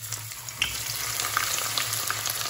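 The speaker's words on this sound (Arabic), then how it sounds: "راني درت الزيت تاعي يحمى، غادي ندير البصل هو الاول ينقلى" Onion frying in hot oil makes a steady, moderate sizzle and crackle with small pops, close by and alone, with no voice.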